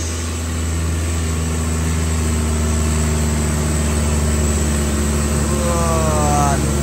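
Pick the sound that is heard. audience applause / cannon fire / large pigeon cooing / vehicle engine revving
vehicle engine revving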